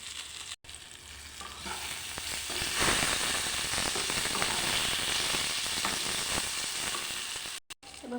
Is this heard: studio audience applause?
no